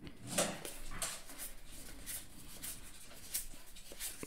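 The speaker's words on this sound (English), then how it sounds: "My dog and my cat are over here playing with each other." A dog playing with a cat indoors gives faint whimpers and soft scuffling sounds nearby in a quiet room, with brief louder yelps scattered through.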